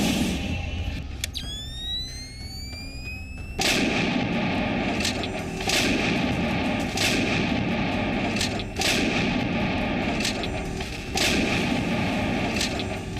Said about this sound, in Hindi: बोफोर्स तोपर गर्जन समग्र कारगिल क्षेत्र को थराई देउथाए।